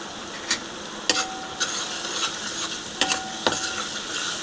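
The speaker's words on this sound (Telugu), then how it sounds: "ఒకసారి మళ్ళీ కలిపేసుకుంటున్నాను." Spice masala with chilli powder and turmeric fries and is stirred for a brinjal cashew curry, a soft sizzle running under scattered spoon clicks and scrapes against the pan.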